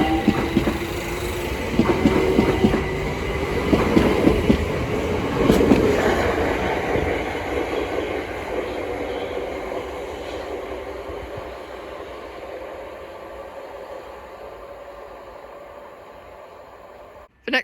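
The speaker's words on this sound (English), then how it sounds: "Now departing is the 1320 London Overground service from Crystal Palace to Hybern in Islington." A London Overground train pulls out of Sydenham station on the Brighton Main Line, rumbling and clattering loudly with squeals at first, then fading to a steady diminishing roar as it recedes, ending with a brief knock.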